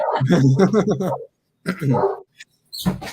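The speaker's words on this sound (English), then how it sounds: "Never mind my barking dogs." Two large bloodhounds bark and yip in short bursts indoors, mixed in close with a person talking over them.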